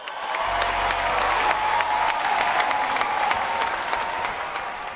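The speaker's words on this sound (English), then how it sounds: "Can we have a round of applause for Flex again?" A studio audience at a Nigerian televised talent show breaks into sustained applause, a thick wash of clapping heard close and steady throughout, with a faint low hum underneath at the start.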